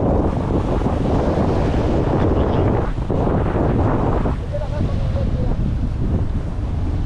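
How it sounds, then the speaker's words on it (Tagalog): Strong wind at a campsite buffets the microphone in a loud, steady roar that never lets up, with a faint voice murmuring underneath. "malakas naman yata yung hangin masyado"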